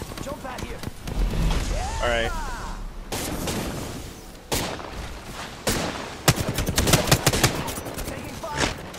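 Semi-automatic gunfire in the battle royale game Apex Legends cracks out in sharp, irregular single shots and short bursts, mixed with game effects and a player talking throughout.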